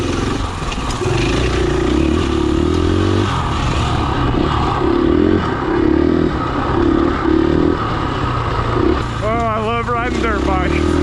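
A KTM 500 EXC-F dirt bike rides a trail, its engine droning steadily with repeated rises and falls in revs, fairly loud, while a person talks over it throughout and a rising whine swells near the end.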